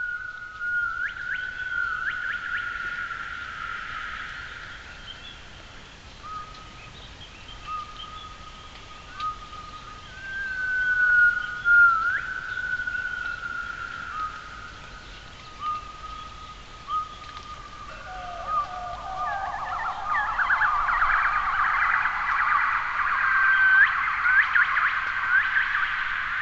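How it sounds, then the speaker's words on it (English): Long, pure whistling gibbon hoots, male calls then a female reply, hold steady and rise, building into a faster, louder series of rising calls toward the end, with a faint background hum. "when we hear the next animal, which is a gibbon"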